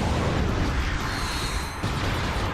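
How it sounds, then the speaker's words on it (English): A big explosion in a Crusader Tournament video game, a loud broad rumbling blast with mechanical creaking layered in, cutting off sharply near the end. "Now that was a big explosion."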